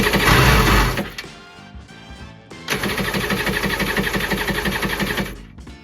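Abandoned jetski engine running with throttle: a loud buzzing rev that cuts out, a quieter sputter, then a second steady rattling run that stops abruptly, close up.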